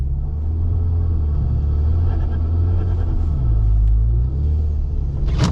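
Golf R accelerating on a snowy road in a blizzard, a steady low engine rumble from inside the car that rises briefly and smoothly as it gains speed.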